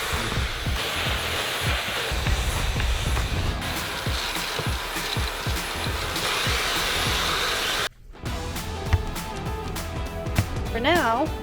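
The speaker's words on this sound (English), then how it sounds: "I acquired the vacuum and it's vacuuming time with this" A vacuum cleaner hums steadily inside a Toyota Highlander hybrid used for camping, its motor drone with bumps and knocks as it moves, then a short break and some shuffling afterwards.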